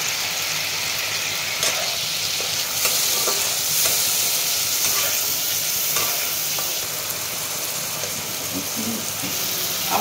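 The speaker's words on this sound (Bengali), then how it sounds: "আমার এটা কষা হয়ে গেছে মশলাটা।" Spice masala of ginger paste, dried chilli powder and cumin powder sizzles steadily in a pan while being stirred, with bright continuous frying hiss and occasional scraping clicks close by.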